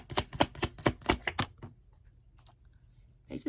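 Tarot cards shuffled and flicked, a rapid run of crisp, close slaps and snaps that stops abruptly, followed by near silence with a couple of faint taps.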